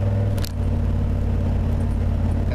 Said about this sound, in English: This is the first time I've driven this truck in 6 months.